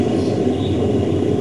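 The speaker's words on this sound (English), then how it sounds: "Sounds like there's a train." Steady loud rumble of a train passing nearby, a continuous broad roar with no breaks.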